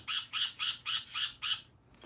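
A bird squawks loudly six times in a steady, evenly spaced run, each shrill call close and harsh, then the calls stop and the clip ends quietly.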